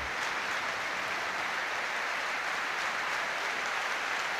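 Football crowd applauding in the stadium during a Scottish Premiership derby between Hibernian and Hearts, a broad continuous wash of clapping from a large distant crowd, steady throughout.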